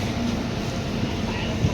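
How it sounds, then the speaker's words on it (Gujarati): Morning train from Alirajpur pulling into a station on the way to Baroda, a continuous low rumble of rolling wagons with steady mechanical noise throughout and faint crowd murmur around it. "આ ટ્રેન આવી ગઈ છે, અલીરાજપુરથી ટ્રેન આવે આ ટાઈમે સવારમાં"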